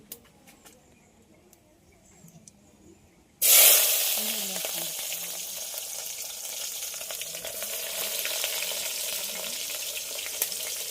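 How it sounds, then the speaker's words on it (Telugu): Dry red chillies hitting hot oil in a village kitchen, a sudden loud burst of sizzling after a few seconds of quiet, then a continuous frying hiss that settles but stays strong. "ఆయిల్ వేసాక ఫస్ట్ ఎండుమిరపకాయలు వేసుకోవాలమ్మా"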